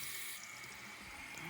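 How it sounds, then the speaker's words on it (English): Tap water runs steadily into a sink after a clog repair, a constant close hiss and splash with no voices. "All right, water is flowing."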